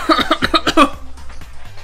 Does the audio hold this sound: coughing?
yes